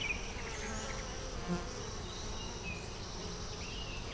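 A steady, dense hum of many honeybees buzzing close around a hive on a hot, humid day, continuous and even, with faint higher whines of individual bees passing.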